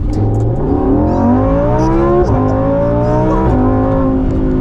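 A Lamborghini Huracan Evo V10 revs hard while accelerating, its loud, close engine note climbing steadily and dropping briefly at two quick gear shifts before rising again.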